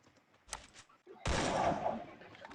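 AK-47 fire in a battle royale shooter game: a short early burst, then a loud, sustained automatic volley that fills the last second and a half, close and heavy.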